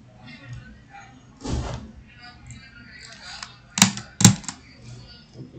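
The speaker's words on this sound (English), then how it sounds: "Now typing zeros." Zeros are typed on a computer keyboard during a 3D rigging session: two sharp, distinct key clicks about half a second apart, preceded by a softer muffled thud and faint background rustle.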